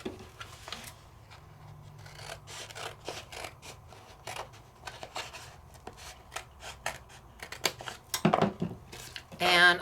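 Paper being cut to size for die-cut crafting, a run of crisp, snipping and sliding strokes at close range, some louder rustles near the end, with faint background sound beneath.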